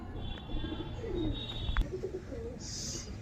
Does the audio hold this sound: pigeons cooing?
yes